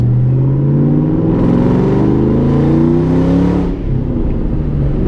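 Supercharged Cobra engine with a cold air intake accelerating loudly and smoothly, pitch climbing steadily with a whirring supercharger whine, then easing off near the end.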